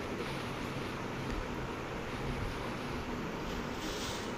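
Tap water runs steadily into a basin while chicken is washed, a constant hissing splash close to the microphone with no break and no talk.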